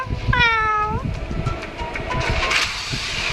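A cat in the Honkai Star Rail video game gives one clear drawn-out meow with a falling pitch, over a busy game soundtrack and background noise.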